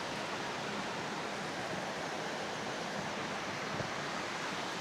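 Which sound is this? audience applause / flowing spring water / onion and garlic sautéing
flowing spring water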